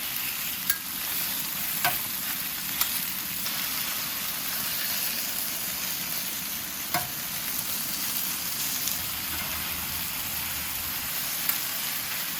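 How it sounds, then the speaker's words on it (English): Oiled, marinated beef sears on a hot griddle for a stir fry. A continuous loud, close sizzle is punctuated by occasional sharp spatula clicks and taps, with no voices. "Add more oil and throw in the marinated beef."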